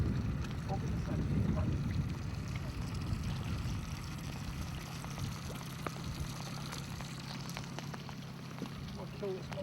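Outboard motor on a fishing boat idling steadily at low volume, with water lapping and wind buffeting, the engine drone continuous throughout.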